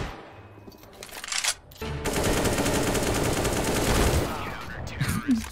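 Rapid automatic gunfire from a video game, a dense sustained burst of shots lasting a few seconds after short scattered sounds, with a voice talking briefly around it.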